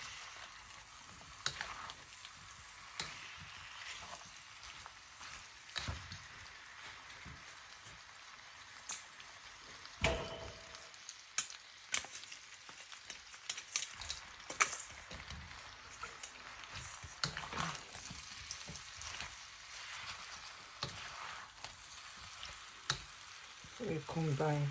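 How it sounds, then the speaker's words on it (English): Gizzards and fried plantain are stirred in a sizzling sauce for Nigerian gizzdodo, a soft continuous frying crackle broken by scraping spoon strokes and clinks, fairly quiet with no talking. "We combine thoroughly so that the sauce can get into the dodo as well."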